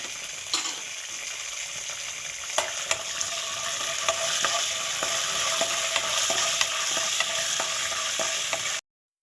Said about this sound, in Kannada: ಕಡಲೆ ಬೀಜ, ಸ್ವಲ್ಪ ಕಡಲೆಬೇಳೆ, ಇದನ್ನು ಚೆನ್ನಾಗಿ ಫ್ರೈ ಮಾಡ್ಕೊಳ್ಳಿ